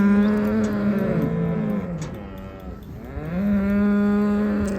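Dairy cattle moo loudly and close by during transport in a livestock trailer, with several long, drawn-out calls that overlap and follow one another without any talking.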